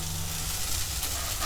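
Hot oil tempering (oggarane) for veg hakka noodles sizzles in a pan, a dense, even hiss that stays close and constant throughout with no voices.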